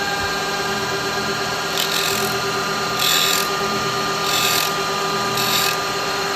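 A wood lathe spins a resin piece at 2,500 RPM, giving a steady whining machine drone with faint rhythmic swells of hiss from the turning work, close and continuous.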